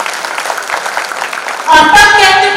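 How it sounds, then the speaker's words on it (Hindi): Audience applause at a Hindi poetry stage event, a soft wash of clapping for most of the stretch before a louder voice cuts in over it near the end. "मैं चाहती हूँ पूरे आयोजन समिति के लिए आपकी जोरदार तालियां हो जाए"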